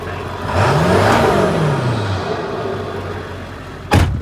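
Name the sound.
Ford 7.3 Powerstroke diesel truck engine revving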